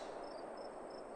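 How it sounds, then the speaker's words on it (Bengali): Crickets chirp faintly and steadily at night in a rural setting, their thin repeated calls sitting under a soft constant hiss with no other sounds. "দূর দূরান্তে কেবল ঝিঝি পোকার ডাক"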